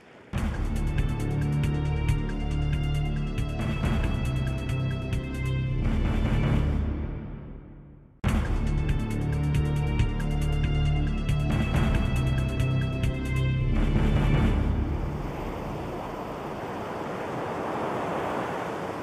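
Raging winter sea, with waves and wind roaring loudly and continuously, a brief dropout midway, then a softer wash of surf toward the end.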